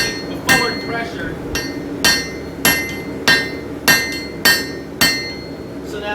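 A hammer strikes a San Mai steel billet on the edge of an anvil during chef knife forging, eight sharp ringing blows at a steady, slightly uneven pace, close and loud with a faint background hum.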